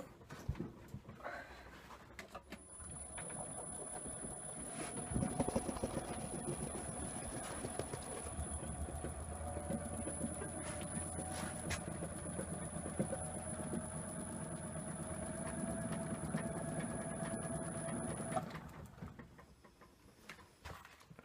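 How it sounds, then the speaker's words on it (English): Wood lathe turning an off-centre sycamore bowl, running as a steady, faint mechanical hum with a rhythmic thumping undertone and a high whine that holds for most of the run before the machine winds down. "excuse me while I move the lathe out a bit"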